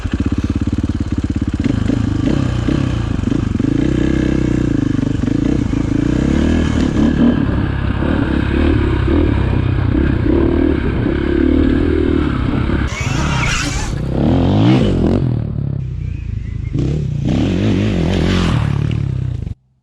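A KTM 500EXC dirt bike fitted with an FMF exhaust pipe roars loud and close as it is ridden, a sustained throaty engine drone that rises and falls with throttle changes, then rough revving bursts and clattering near the end.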